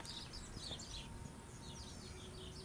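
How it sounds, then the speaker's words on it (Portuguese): Sparrows chirp in a tree on the bank of the Rio Doce. The high, scattered tweets are faint and distant over a low outdoor hum. "Tem muitos pássaros nessa árvore."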